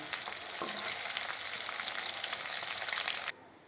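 Steady, dense sizzle of potatoes frying in hot oil, loud and close, with crackling pops throughout before it cuts off abruptly near the end.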